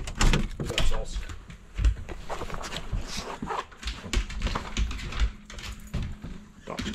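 A dog barks in short bursts, close by and loud, around a person talking, with a door or vehicle sounds mixed in.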